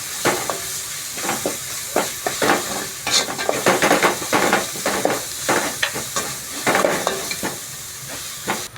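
Ginger garlic paste sautéing in a pan, heard as a loud sizzle under frequent, uneven scraping and stirring strokes of a spoon against the pan, close up and without voices.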